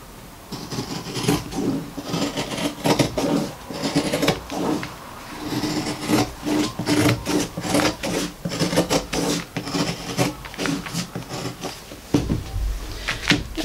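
Scissors cutting through skirt fabric along the hem, a close run of repeated rasping snips and slides with steady rhythm and a few louder bumps, no speech.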